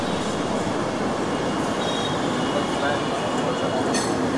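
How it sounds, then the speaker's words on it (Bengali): Durgiyana Express 12357 pulling out of Gaya Junction, heard as a steady broadband rail rumble with faint metallic clinks and a brief high squeal near the end. "ট্রেনটা ছেড়ে দিল গয়া জংশন"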